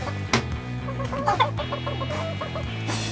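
Chickens cluck close by inside a coop with a rooster among them, a steady murmur of short calls broken by a few louder squawks, and no talking.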